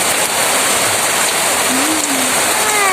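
Heavy rain pours steadily at the Wonderland in Hong Kong, a dense continuous hiss close by that fills the whole stretch, with a faint tonal whine rising briefly partway through.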